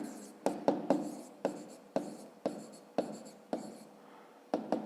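Pen or pencil writing numbers on paper for a fifth-grade maths exercise, a quiet, close rhythm of short strokes and taps repeating about twice a second.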